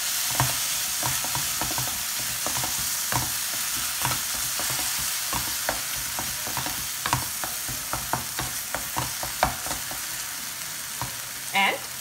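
Paneer bhurji being stirred in a frying pan: a steady sizzle of grated cottage cheese cooking, broken by frequent scraping clicks of a spoon against the pan, close and fairly loud throughout.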